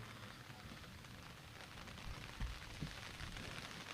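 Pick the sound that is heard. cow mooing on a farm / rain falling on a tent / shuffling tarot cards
rain falling on a tent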